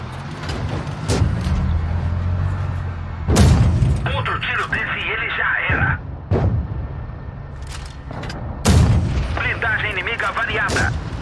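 Two heavy booming tank cannon shots in the video game World of Tanks Blitz ring out several seconds apart, each followed by a mechanical whir, over a constant engine rumble and intermittent talk.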